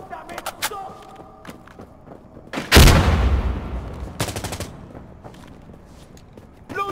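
Gunfire in Insurgency Sandstorm, with a loud burst of shots around the middle dominating the mix, preceded and followed by scattered isolated reports and background speech.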